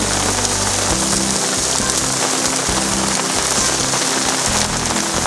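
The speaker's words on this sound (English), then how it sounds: "A fine summer's day's lunch in the rain." Steady, heavy rain falls outdoors on a farm during a summer lunch at a griddle, a loud, dense patter that covers the whole stretch without pause.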